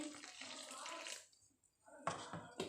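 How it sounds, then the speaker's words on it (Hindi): Lukewarm water is poured little by little into flour dough in short, faint splashy bursts separated by a brief quiet gap, heard up close. "नीम गर्म पानी थोड़ा थोड़ा डाल के"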